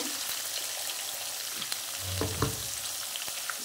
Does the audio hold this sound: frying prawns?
yes